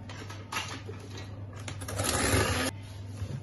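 An electric hand mixer beats eggs and sugar in a bowl for gluten-free besbousa, whirring in short bursts that give way to a longer, louder stretch of steady buzzing close by.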